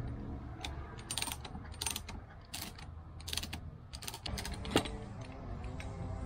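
A tool being used to ease open a Mercedes Sprinter brake caliper, producing quiet, close ratcheting clicks in irregular short bursts over a low background hum.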